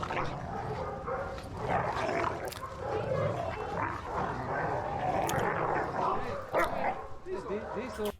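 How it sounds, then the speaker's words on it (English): Two dogs playing rough, one younger dog chasing the other, with a steady run of loud, close growls, yips and barking noises that carry through the whole stretch. "So you can hear at the start of this video, it sounds really fun. It sounds really playful and the growls."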